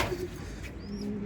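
A pair of male and female pigeons in a loft coo softly and low, a few gentle murmuring calls close by over steady background noise.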